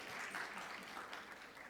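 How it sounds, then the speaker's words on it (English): An audience applauds at a conference afternoon session after a speaker is introduced, a quiet, distant patter of clapping that stays fairly even for the short stretch. "Round of applause."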